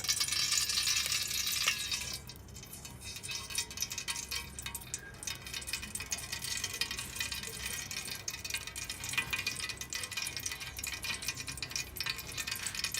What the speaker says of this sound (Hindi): अब हम इसमें घी शामिल करेंगे।